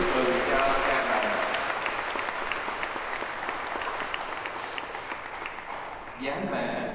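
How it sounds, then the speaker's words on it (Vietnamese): Church congregation at a Mass applauds in a sustained round of dense clapping that fades slightly, then a voice speaks over the room near the end. "tràng pháo tay thật lớn"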